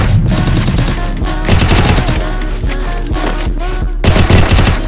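Dense, continuous automatic gunfire and overlapping shots from the battle royale mobile game Free Fire, loud and sustained across the whole stretch with rapid bursts.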